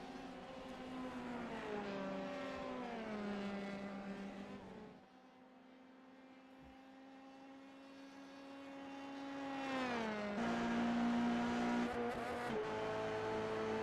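Race cars circle a track during a qualifying session, a sustained engine whine that rises and falls in pitch as cars pass at a distance, dipping quieter midway and then swelling louder again.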